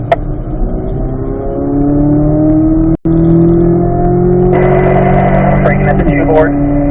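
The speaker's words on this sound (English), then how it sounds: "Give me some throttle here, Renee." A car engine accelerates out of a curve on a race track under throttle, a loud sustained drone climbing steadily in pitch, with a brief dropout midway and a gear change near the end.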